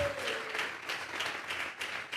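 A church congregation applauds during a sermon, a faint, steady round of clapping rising and falling in waves.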